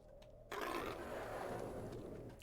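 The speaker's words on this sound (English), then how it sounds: "I like that their growls are kind of like halfway to a belch." Bandit growls from the video game Two Worlds, a loud burst after a short quiet gap that sustains as a rough, belch-like roar to the end.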